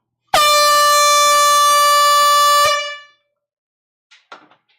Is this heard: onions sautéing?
no